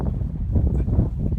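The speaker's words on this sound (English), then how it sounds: "Very windy up here" Wind gusting across a hilltop, a low steady rumble buffeting the microphone for a moment with no voices.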